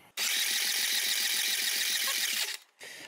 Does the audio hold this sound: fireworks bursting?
no